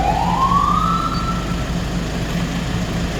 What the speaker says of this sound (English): We can also check our PA system as well as our siren.